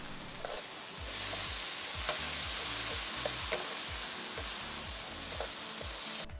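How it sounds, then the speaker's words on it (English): Vegetables and tomato stir-frying in a hot pan give off a loud, steady sizzle, with rhythmic scraping and tossing strokes from the stirring running throughout; no one speaks. "So then I want you guys to listen to this sizzle."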